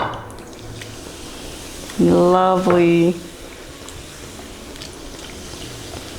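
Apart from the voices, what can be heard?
Coca-Cola poured over ribs in a pan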